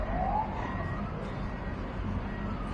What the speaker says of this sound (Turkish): Şimdi itfaiye geliyor.